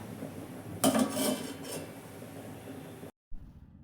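A metal lid clatters down onto a cooking pot of chicken curry with chana dal, a sharp clang followed by a few lighter rattling knocks, then quiet simmering background before a brief cut.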